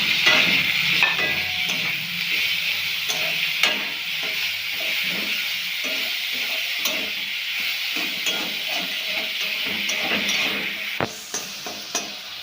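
Onion, green chillies and tomato fry in a pan with a steady sizzle, punctuated by repeated scraping and knocking stirs of a spatula, close and clear with no talking.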